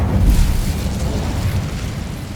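An Incendio fire spell bursts in Hogwarts Legacy, a deep whooshing blast that roars loudly at the start and keeps rumbling as a steady fiery rush.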